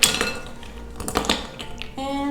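Blue ice cubes clink and clatter into a glass in a kitchen, several sharp hard knocks in quick succession, close and fairly loud, followed by a short ringing tone.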